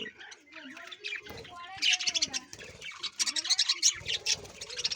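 Budgerigars and Java sparrows kept together in an indoor home colony chatter and chirp in dense, overlapping bursts, growing busier and brighter partway through, with a voice talking over the birds.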